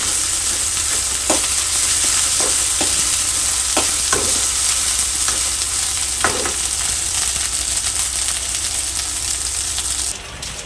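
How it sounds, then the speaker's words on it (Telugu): Ginger garlic paste frying in a pan for crab curry gives a loud, constant sizzle, with a few scattered clicks of a stirring spoon. "Table spoon ginger garlic paste వేసుకోవాలి."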